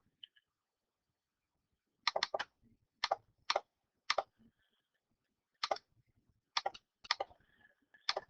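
Computer keyboard typing during a geometry lesson, heard as short clustered bursts of key clicks separated by pauses, close and fairly quiet, with no voices.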